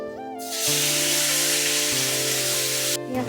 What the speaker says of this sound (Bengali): এবার দেব পেঁয়াজ পেস্ট করা